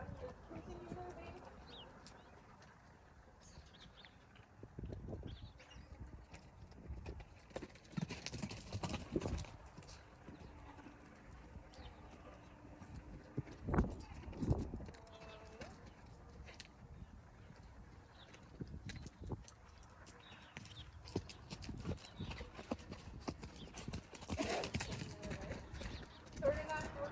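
A three-year-old horse trots on the ground, its hooves making a steady clip-clop close by, and the beats come in bursts that get louder in places. A handler speaks over the footfalls, and birds call faintly in the background.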